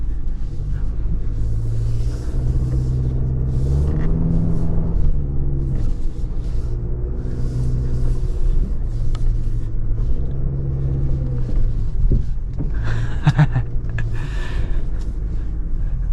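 A 2024 GMC Canyon AT4X AEV Edition pickup pushes through deep off-road sand, giving a loud, steady low rumble of engine and drivetrain heard from inside the cab, with the revs rising and falling.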